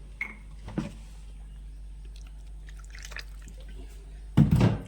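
Oil poured into a tamarind-based fish curry mixture: a few soft drips and liquid trickles over a steady low background hum, ending in a brief louder splash.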